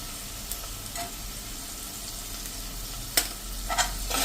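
Spoon stirring turmeric through poha and potatoes in a hot pan, soft scraping strokes over a low steady sizzle, with a few sharper clinks and swishes near the end.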